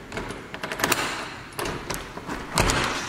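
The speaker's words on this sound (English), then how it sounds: "Oh, helped if I would unlock the door." An exterior door to a patio at a brick ranch house is unlocked and opened, with a few close clicks, knocks and thuds from the lock and door scattered over about three seconds.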